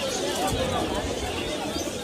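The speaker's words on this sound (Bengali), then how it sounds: "দোবাস কবুতর" Pigeons coo softly amid a crowded pigeon market at Jinjira, Bangladesh, with background chatter and the murmur of many voices around the birds.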